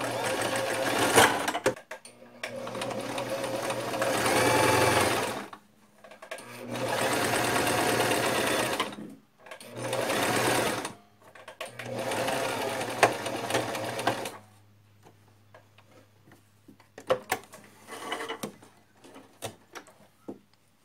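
A domestic sewing machine stitching with a twin needle runs in four loud, close bursts of rapid mechanical whirring, separated by short pauses, followed by a steady low hum with scattered clicks and handling noises.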